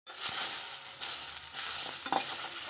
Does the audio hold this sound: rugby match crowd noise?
no